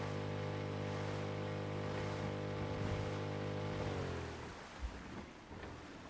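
A boat engine in the Rust video game drones steadily on open water with a loud, even harmonic hum, then winds down and cuts off near the end, leaving wind and lapping waves.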